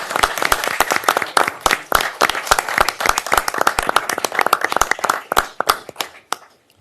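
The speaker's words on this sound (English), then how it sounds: "So please give him another round of applause for being here." An audience at an African American heritage celebration applauds, sharp individual claps standing out over steady clapping that gradually thins and fades out.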